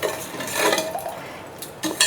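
A spoon scrapes and clinks around inside a metal pot, stirring turmeric into a thickening curry gravy, brief stirring sounds up close with a few light taps.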